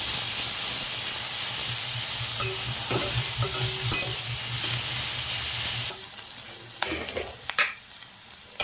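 Masala sizzles steadily in a pan as it is fried and stirred with salt and turmeric for masala pasta, a loud continuous hiss that drops lower after a few seconds, with scattered clinks of stirring.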